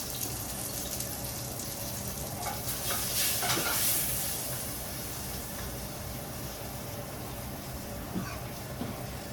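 Garlic and pepper fry in a pot with a steady, moderate sizzle, while a few stirring scrapes and clinks surface near the middle and again toward the end.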